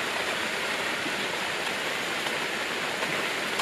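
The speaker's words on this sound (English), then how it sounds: "The rain appears to be like normal water." Steady rain falls on and around a greenhouse, a dense, even hiss that continues without pause and with no voices.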